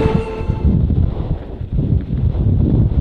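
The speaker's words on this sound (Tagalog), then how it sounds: "Grabe yung hangin oh." Strong, continuous coastal wind in Ilocos Norte buffeting the microphone with a heavy low rumble that roars steadily for the whole stretch, loud and close.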